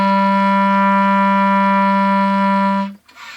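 A clarinet holds low A, the note fingered with the left-hand C key and two right-hand fingers, as one long, steady, loud tone for about three seconds before cutting off into quiet.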